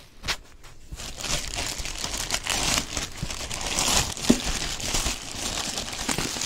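Packaging around a GoPro HERO9 Black action camera crinkles and rustles as it is unwrapped, a close, continuous crackling of plastic with a few sharper crunches, rising slightly in loudness toward the end.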